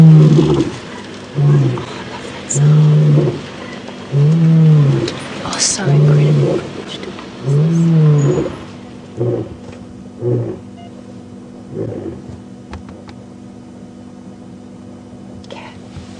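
Deep lion roars come in a steady rhythmic series, then taper off into shorter grunts, while a person whispers quietly nearby, heard in darkness on a live safari drive.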